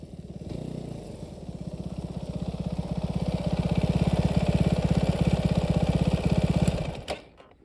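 Engine of a Mondial HPS 300 motorcycle running with a fast, even pulsing thump that swells gradually louder and closer, then cuts off abruptly near the end.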